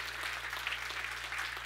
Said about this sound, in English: Can we give the Lord a hand clap for being so good to us?